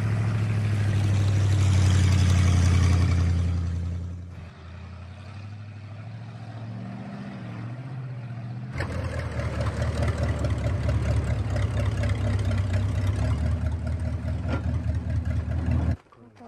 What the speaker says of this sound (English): Don Martin takes his and Wilfredo's harvest back to the village on his 1952 Dodge transporter